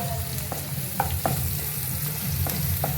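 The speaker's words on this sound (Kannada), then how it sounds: "ಆನಿಯನ್ನು ಗಾರ್ಲಿಕ್ ಎಲ್ಲ ಫ್ರೈ ಆಯಿತು" Onion and garlic fry in a pan with a steady sizzle while a spatula scrapes and taps the pan a few times, close and clear, without talk.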